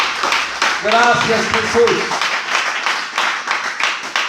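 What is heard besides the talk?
audience applause in church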